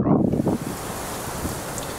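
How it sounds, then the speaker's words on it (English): Strong wind buffets the microphone at a deer hunting spot, a loud gusting rush at the start that settles into a steady roar with no talking. "That's how windy it is"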